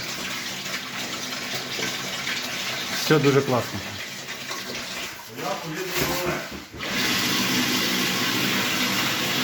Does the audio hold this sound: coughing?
no